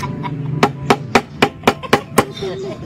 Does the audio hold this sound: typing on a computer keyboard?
no